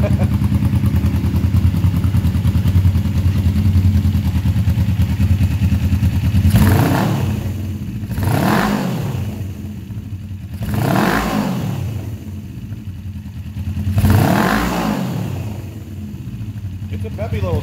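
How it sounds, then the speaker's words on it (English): Suzuki GS450 cafe motorcycle with mufflers fitted, running close by: a steady idle rumble followed by four throttle blips that rise and fall, with the engine dominant and talk likely underneath. "sounds a little different with the mufflers on it, doesn't it?"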